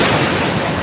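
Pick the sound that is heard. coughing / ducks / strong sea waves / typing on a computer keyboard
strong sea waves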